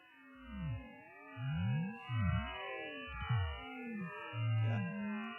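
Synthesized sonification of a moving phase wave in a 3D swarmalator simulation: dense layers of sliding, chirping sine tones sweep up and down, punctuated by repeated low swooping pulses, with no voices.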